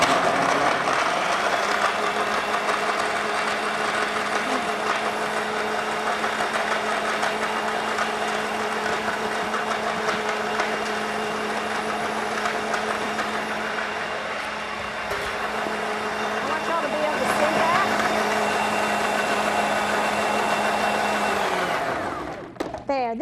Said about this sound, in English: this is my Bosch blender